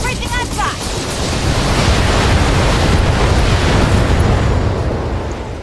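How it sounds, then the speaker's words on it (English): Starship weapons in Star Trek: Judgment Rites fire in a quick burst of warbling zaps that give way to a loud, sustained roaring explosion rumbling on close and full. "Firing everything I've got."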